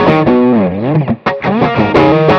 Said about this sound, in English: And then we go down to the bridge position, throw a little drive on there.